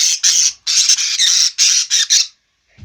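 Loud, harsh squawking from pet birds close by, a rapid series of about eight shrill bursts, then quiet.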